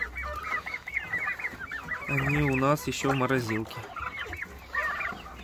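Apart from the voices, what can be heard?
chickens clucking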